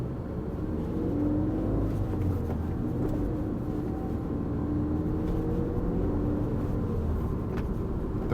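A manual-transmission car driven in New York City accelerates, its engine giving a steady, close, low rumble with rising tonal bands, heard from inside the cabin.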